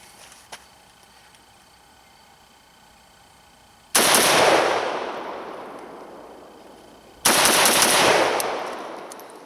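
Two loud gunshot blasts from an AK rifle with an underfolder stock, fired several seconds apart, each sharp crack followed by a long echoing decay; a faint click comes before them.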